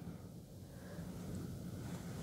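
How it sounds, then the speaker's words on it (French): Strong storm wind pressing against a window: a continuous low roaring rush with steady buffeting, fairly loud and constant, with no voices. "Et la force du vent."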